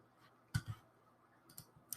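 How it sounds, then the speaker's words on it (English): A computer mouse clicks on a Hold button, sounding as a few faint, crisp clicks spread over two seconds in a quiet room. "I can unhold it just by clicking the same button again"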